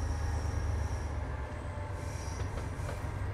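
Train Sim World 3 locomotive running along rails on the Niddertalbahn line, a steady loud low rumble with a constant rolling drone and faint higher squeals, continuous with no talk.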